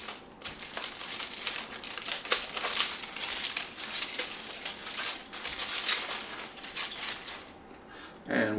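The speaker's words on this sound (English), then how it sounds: "let's just unwrap one and see what it looks like" Plastic packaging around a vegan sausage crinkles and crackles in quick, uneven bursts as it is peeled open close by, fairly quiet throughout.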